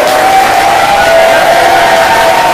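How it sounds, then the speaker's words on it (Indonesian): Audience at a gathering applauds and cheers loudly and continuously, a dense wash of clapping with shouts, close and sustained throughout. "Tepuk tangan dulu dong."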